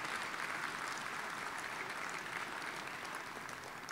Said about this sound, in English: Let's give the foundation a big round of applause